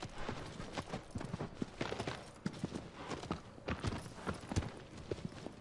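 A mare's hooves clop steadily across the ground in Shadow of the Colossus, a continuous, fairly faint rhythm of walking hoofbeats with no voices over it.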